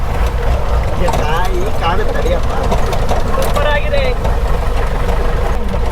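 An off-road jeep engine rumbles loudly and continuously on a rough trail, with excited voices calling out over the engine noise.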